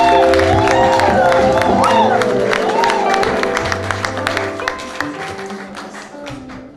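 Crowd applause and cheering fill a church service, with steady clapping, a few whoops and voices rising over sustained organ-like tones before the sound gradually tapers off.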